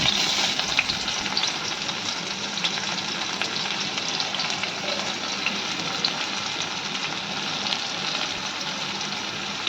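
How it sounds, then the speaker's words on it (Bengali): Chopped onions frying in oil previously used to fry puti fish, a steady, dense sizzle and crackle close by with occasional stirring, continuous and without talk. "ওই তেলেই আমি মাছ ভাজার তেলে পেঁয়াজ দিয়ে দিচ্ছি"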